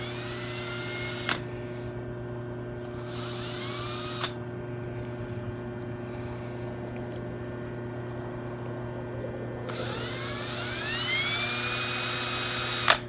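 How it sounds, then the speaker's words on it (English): A power drill bores into a plastic spa spinner jet, whining up in three separate bursts: one short, one brief, and a longer final run that rises in pitch over a constant low hum. "So I'm going to go ahead and drill the other side."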